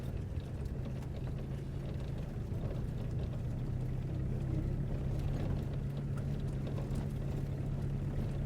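A steady low engine drone hums throughout, like a boat motor running at close range, near the boat entrance to Nagadeepa in northern Sri Lanka, with faint background bustle and no talk.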